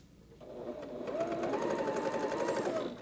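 A sewing machine stitching quilt fabric for a pumpkin-themed quilt, starting after a short pause and running steadily at close range with a fast, even mechanical whir for about two and a half seconds.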